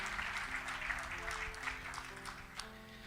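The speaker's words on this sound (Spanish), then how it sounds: "Dale un fuerte aplauso al Señor." Church congregation clapping during a sermon, a quiet, distant patter of applause with sharper individual claps standing out and a low musical hum beneath.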